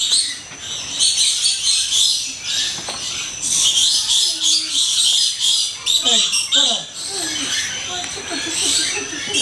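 Captive tropical birds call in the Papua aviary of Bali Bird Park, with chirps and squawks scattered over a dense, constant bed of high insect-like buzzing and background noise, alongside faint human voices.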